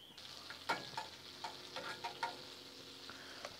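Butter flakes sizzle in a frying pan, a soft steady hiss broken by a series of sharp crackles and pops, heard close up and fairly quiet with no talk.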